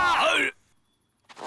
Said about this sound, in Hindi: इतनी जोर से कौन चिल्लाया?